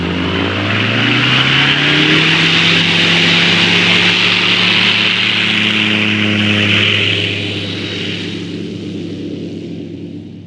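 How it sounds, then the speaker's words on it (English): Small airplane engine roaring through a takeoff run, a loud steady propeller drone with rising harmonic pitch, then fading and thinning as the aircraft pulls away into the distance. "And here we go, first takeoff in 60 days."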